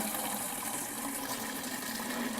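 Pond water fed by gravity from a duck and goose pond, gushing steadily out of a tap: a constant close splashing rush with no pauses and no voices.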